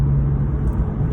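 Porsche 911 cruising on a freeway, a steady, loud low rumble of engine and road noise from inside the car with a constant hum throughout and no talking.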